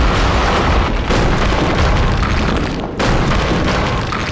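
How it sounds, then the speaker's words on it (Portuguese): Bomb explosion in Max Payne, a loud, sustained booming roar that fills the whole stretch, with a brief dip and a second surge of blast noise near the end. "Olha a bomba."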